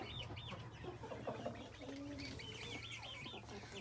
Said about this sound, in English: Those chicks are really loud.